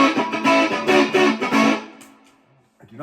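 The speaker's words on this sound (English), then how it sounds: "here's some distortion plus" Fender acoustic-electric 12-string hollow-body guitar played through a Distortion Plus pedal: a few loud, gritty distorted strums in a rhythmic pattern, then the sound decays into near silence.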